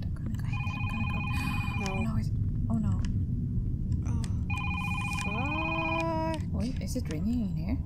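In the Is Simon There? horror video game, a telephone rings in two electronic trilled bursts with a pause between, while people talk over it, with a warbling tone sliding at the end.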